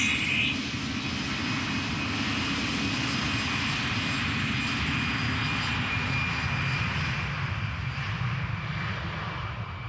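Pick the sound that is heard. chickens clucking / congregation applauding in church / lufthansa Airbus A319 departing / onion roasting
lufthansa Airbus A319 departing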